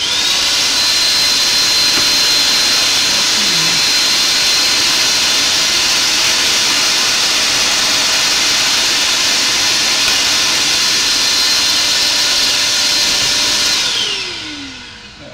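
A loud, steady mechanical roar runs continuously with a faint high whine, fading slightly at the very end.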